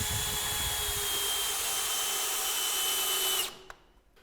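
A power drill drives 80mm screws into the bracket corners of a Velux Integra electric roof window frame, giving a steady high whine that runs loud and close for several seconds before cutting off abruptly.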